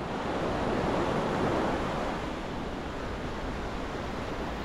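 Open-sea waves on the Konkan coast of India roar as a steady, dense wash of surf, close and loud, with no pauses and no voices.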